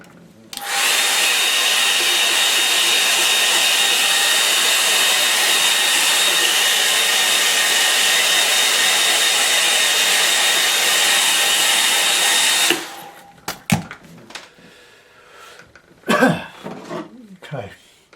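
Hair dryer blowing on a watercolour painting: a loud, steady whooshing whir that runs unbroken for about twelve seconds, then cuts off, followed by a few handling knocks and brief talk.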